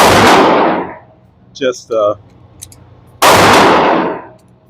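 Two loud, close gunshots from an RIA 22 TCM pistol at a shooting range, each with a long decaying boom, separated by a short spoken word and a faint metallic clink.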